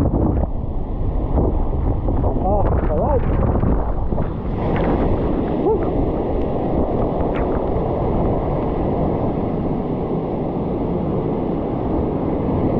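Constant roaring wind and rushing water from waves crashing over a boat at sea, with a brief spoken exclamation in Filipino partway through.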